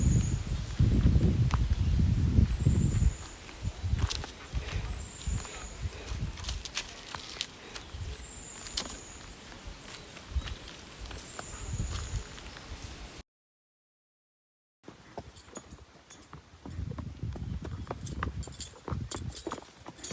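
Horse hooves on a descending trail from Lanzones Falls in Siniloan, Laguna: irregular, close clip-clop steps with rustling and light jangling, broken by a short silent gap before the steps resume.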